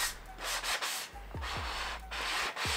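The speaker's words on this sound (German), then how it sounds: "Und jetzt schleife ich da noch mal kurz drüber, um eben diese feinen Ausrisse, die das Sägeblatt verursacht hat," Sanding by hand across a wooden zero-clearance insert for an Einhell TC-TS 2025 table saw, smoothing blade tear-out: repeated scratchy back-and-forth strokes in uneven bursts, close and fairly loud, no talking.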